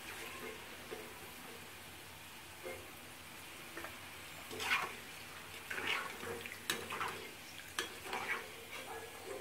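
Bitter gourd chips fry gently in oil over a low flame, a soft, quiet bubbling hiss broken by a few sharper crackles and stirring scrapes later on.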